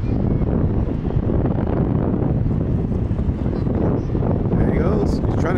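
Strong wind blowing outdoors buffets the microphone in a loud, constant low roar that barely lets up.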